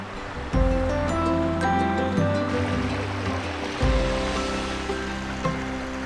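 Water at a mountain lake: a steady wash of lapping water and gentle surf with soft rushing swells, heard close and fairly loud, mixed with light wind noise.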